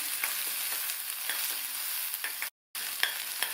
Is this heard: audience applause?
no